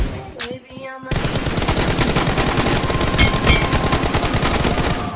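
Rapid automatic gunfire in a first-person shooter video game, a loud continuous stream of shots after a brief quiet opening with a few game effect tones, with no talking.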